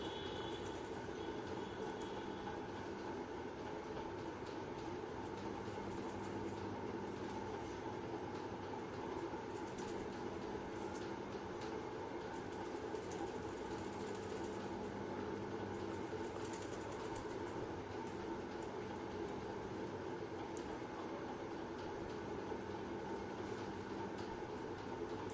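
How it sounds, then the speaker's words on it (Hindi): A home sewing machine running slowly and unevenly with jammed thread, a steady continuous mechanical whir and chatter filling the background without pause or talk. "यहाँ पे धीरे धीरे सिलाई इसलिए हो रही है क्योंकि मेरी मशीन भी जो है थोड़ी ठीक से नहीं चल रही थी।"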